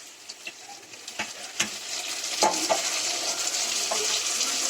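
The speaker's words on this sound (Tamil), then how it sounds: "வெங்காயம் இப்போ வதங்கிருச்சு. தக்காளி போட்டுக்கலாம்." Onions and tomatoes fry in a pan for chicken biryani, a close sizzle that grows louder, broken by scattered clattering strokes of stirring.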